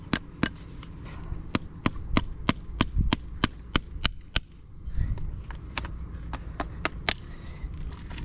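Rapid, evenly spaced metallic hammer strikes on a horseshoe ring out close by in two bursts, a brief pause between them, over faint background noise.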